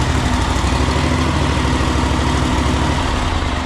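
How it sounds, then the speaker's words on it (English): A riding lawn mower with a newly fitted engine runs at idle, a loud, close, steady chugging drone with even low pulses throughout. "Alright, this mower runs now."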